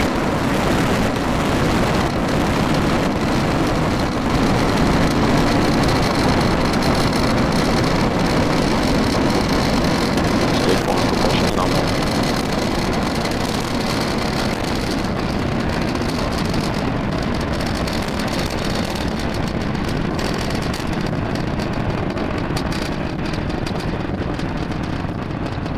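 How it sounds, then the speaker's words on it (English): A SpaceX Falcon 9 rocket launch on a Starlink mission at Canaveral gives off a sustained, broad, rumbling roar that stays dense and loud throughout with no talk. "we have just had liftoff of our Falcon 9 vehicle carrying our Starlink"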